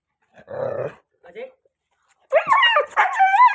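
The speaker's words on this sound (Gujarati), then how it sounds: "અમારો કુતરો આવે" A dog growls low and briefly, then breaks into a string of high, wavering whimpers and whines, close by.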